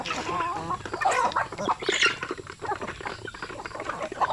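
Clucking and peeping of chickens and chicks on a farm, several close calls overlapping in quick irregular bursts at low volume, no one speaking.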